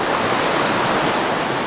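A small creek flows steadily in a broad, loud rushing wash with no breaks or voices.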